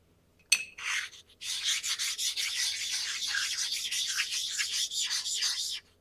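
A slipstone rubs back and forth over a machined cutter grinder part, a close, steady scraping swish in even strokes after a sharp initial contact, with no talk.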